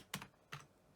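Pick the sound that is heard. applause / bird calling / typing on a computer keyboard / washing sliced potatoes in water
typing on a computer keyboard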